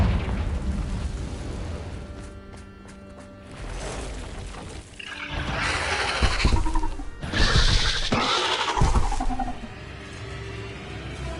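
Confringo blast spell in Hogwarts Legacy, cast near an Acromantula cave: a rumbling, roaring burst of explosive noise that swells in two heavy waves over a low ambient bed, loud and close.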